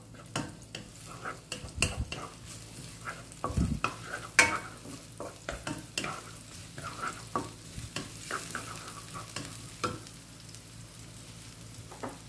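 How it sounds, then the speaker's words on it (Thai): Sliced shallots stir-fried in a pan for a Thai canned fish and egg dish, a soft steady sizzle under repeated scraping and tapping of a spatula against the pan. "ผัดให้หอมนะครับ"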